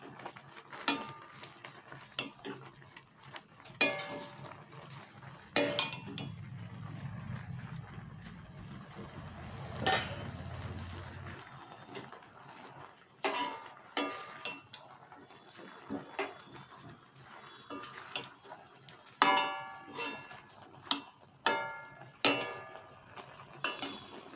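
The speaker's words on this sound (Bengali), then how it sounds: "পাট শাকটা দিয়ে এবার খুব ভালো করে এবার এভাবে একটু নেড়ে দিতে হবে" Jute leaves (pat shak) stirred in a cooking pan, with intermittent spatula scrapes and clinks against the metal, close up, alongside a brief low rumble and quiet gaps between the strokes.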